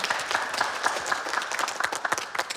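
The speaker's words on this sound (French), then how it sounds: "je pense que vous pouvez vous applaudir" Store employees applaud together at a grand opening, a dense, steady patter of many hands clapping at close range that carries through the whole stretch.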